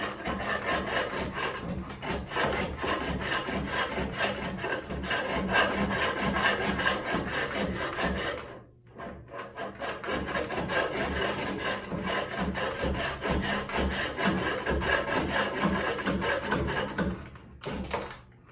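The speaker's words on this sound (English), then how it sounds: "So now I'm going to try taking the SKEW chisel to it, just to see if I can get rid of some of the imperfections." A skew chisel cuts wood turning on a hand-powered spring pole lathe, giving a steady, close, rasping scrape that runs almost unbroken, with short pauses near the middle and the end.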